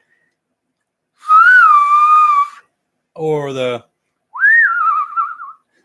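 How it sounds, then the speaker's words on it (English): Three separate human whistles with short gaps between them: a steady held tone, a rapid fluttering trill, then a rising wavering note, loud and close. "You want to learn the whistle like this?"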